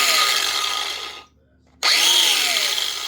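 An 18-volt cordless cutoff grinder runs loud and close with a steady high whine, cuts off abruptly for about half a second, then spins back up to full speed.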